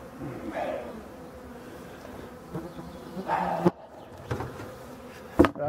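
Honeybees buzz close by at an open queenless hive as bees are cleared from frames, a low droning hum rising and fading, punctuated by a few sharp knocks and clicks.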